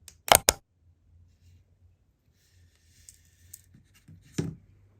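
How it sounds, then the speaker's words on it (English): Fishing line tag end snipped while tying a uni knot onto a reel spool: two quick close cutting clicks, a quiet pause with faint handling, then one more soft snip-like click. "Now you can cut your tag."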